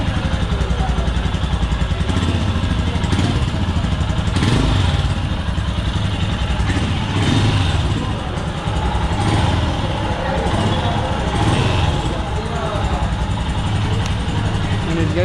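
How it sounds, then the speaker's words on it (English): A 2021 Royal Enfield Himalayan motorcycle idles close up, its exhaust giving a steady, loud, rhythmic thump that holds even without revving. A person talks over the engine. "Let's hear the exhaust note of the new Himalayan."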